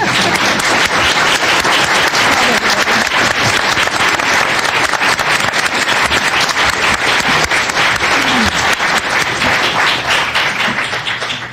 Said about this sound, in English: give them all a huge round of applause